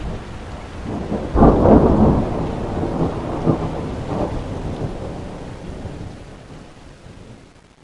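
A heavy thunderstorm: steady rain hissing on surfaces, broken by a sharp, near thunderclap followed by rolling rumbles that fade away with the rain continuing.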